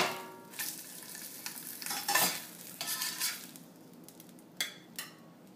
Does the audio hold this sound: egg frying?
yes